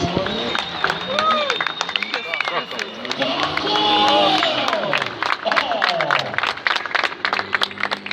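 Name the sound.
crowd applause at drift event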